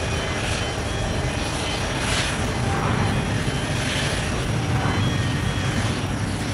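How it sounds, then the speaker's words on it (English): A Boeing 777-300ER wide-body airliner roars with a loud, steady, broadband engine rush that swells slightly in waves, sustained and close with no voices. "Boeing 777-300ER, one of the most popular wide-body aircraft"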